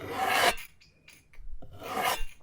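A voice imitates a microblading blade scraping eyebrow skin with harsh, raspy breathy scrapes, two long strokes with short clicks and hisses between them, close to the microphone.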